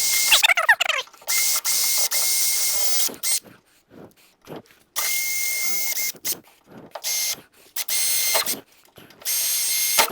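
A power drill with a small 7/64 bit bores holes in car exterior trim in short, loud whirring bursts that start and stop repeatedly, with quiet gaps between them.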